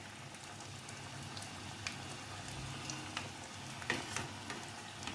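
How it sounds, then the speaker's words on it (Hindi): Vegetable Manchurian balls fry in hot oil with a steady, dense sizzle and bubbling hiss, broken by occasional soft pops and light clinks, with no talking over it. "तो इस तरह से इस बॉल्स को मैं फ्राई कर लूँगी।"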